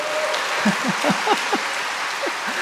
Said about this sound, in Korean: 박수를 한번 크게 쳐주세요.